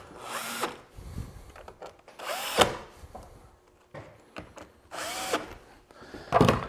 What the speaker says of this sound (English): So I'm just gonna set it in the jig, and I just shoot these screws in.